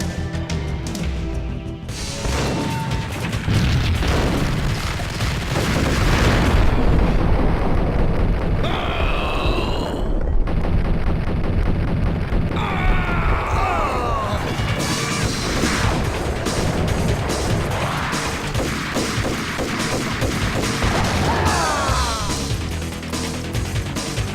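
Gunfire and crashing impacts fill a Max Payne shootout, a loud, continuous barrage of shots and smashing debris with no break.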